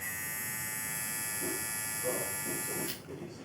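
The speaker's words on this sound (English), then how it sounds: "Sound test on the Coco." Coco digital gap barber clipper running close up, a steady loud high-pitched electric buzz with a bright whine that continues throughout, briefly under quiet speech before the tone drops near the end.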